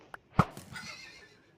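A horse in the Minecraft video game gives a short, loud whinny after a faint click, trailing off into a softer fading breathy tail.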